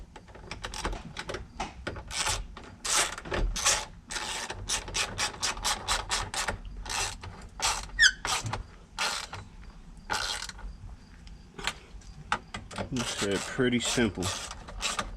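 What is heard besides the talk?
10 mm socket tightening tow mirror bolts on Chevy Tahoe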